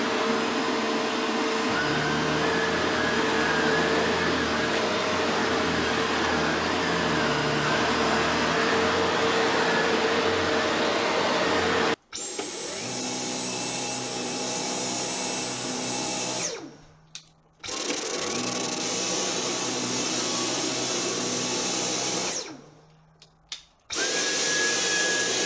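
Cordless Dyson V10 Absolute and Shark Rotator NV752 vacuums running in turn, each a steady loud whine and roar, with pitch and tone changing between the two machines and brief drops as they switch off.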